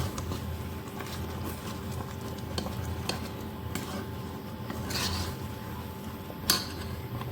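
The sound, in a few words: mixing raw mango pickle with salt and turmeric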